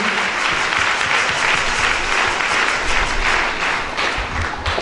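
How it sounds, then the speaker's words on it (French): A church congregation applauds steadily and loudly throughout, a dense wash of many hands clapping close by with no voices standing out. "Acclamons le Seigneur Jésus"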